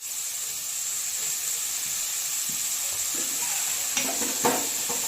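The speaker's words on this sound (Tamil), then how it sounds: "அதையும் சேர்த்து நல்லா பச்சை ஆற போகிற அளவுக்கு நல்லா வதக்கி விட்டுருவோம்." Onions with garam masala, chilli powder and turmeric sauté in a pan, giving a steady close sizzle and hiss with a few light stirring clinks, no talking.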